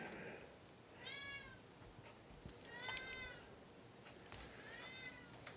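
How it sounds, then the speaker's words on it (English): Three clear, faint meows from a kitten, each drawn out and evenly spaced, against quiet indoor room noise. "so I don't know if you can hear the meowing, but he's meowing."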